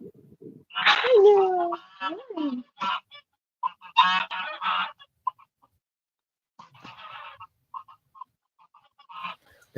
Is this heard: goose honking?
yes